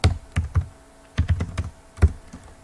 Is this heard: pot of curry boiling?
no